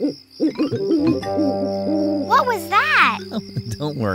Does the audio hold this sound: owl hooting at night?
yes